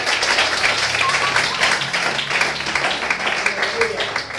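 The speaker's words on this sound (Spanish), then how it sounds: "Denle fuerte ese aplauso al Cristo de la gloria." A church congregation at a Spanish-language service bursts into loud, sustained applause, a thick roar of clapping mixed with shouting voices that carries on without a break.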